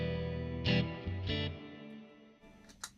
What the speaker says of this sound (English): So reverb on the left, you press it once and it will turn on reverb.